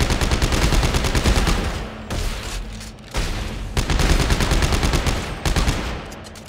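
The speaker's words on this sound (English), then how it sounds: "the plasma cutter is still the best gun in the game" The plasma cutter in the video game Dead Space 3 fires in a sustained, loud barrage of rapid shots. The dense, rhythmic bursts come in several runs, broken by brief gaps, with no talk over them.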